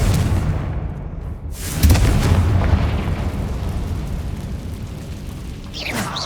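A Confringo blasting spell from the Hogwarts Legacy video game erupts in a loud, booming explosion that rumbles on through a dense, roaring tail, with a second burst swelling near the end.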